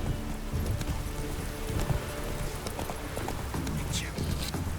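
Roach, a horse in The Witcher 3 game, galloping with steady, rapid clip-clop hoofbeats up close, set against a busy game soundscape with a brief voice and other effects.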